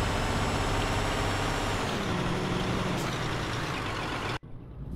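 A heavy truck hauling a big trailer accelerates in Euro Truck Simulator 2, its engine droning loud and steady with a rising whine, then cut off abruptly just before the end.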